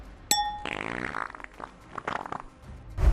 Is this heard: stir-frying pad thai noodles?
no